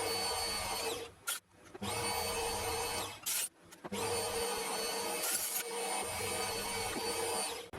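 A loud, steady mechanical whine of a drill in a collet cutting aluminium runs almost continuously, broken by a few brief pauses and bursts of harsher grinding as the drill slips.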